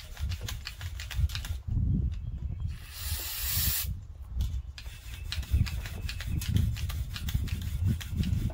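Cleaner sprays in a few hissing bursts onto a Mopar 318 short block in a garage, among rubbing and scrubbing sounds close by.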